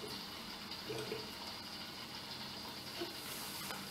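Hazy IPA homebrew beer flowing into bottles during home bottling, a steady soft liquid hiss and trickle that continues without pause, fairly quiet, with no talking.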